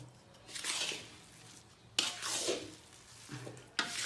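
Khoya is stirred into a fenugreek mixture for pinni in a pan, with quiet scraping strokes and soft sizzles in slow bursts, each opening with a sharp tap against the pan.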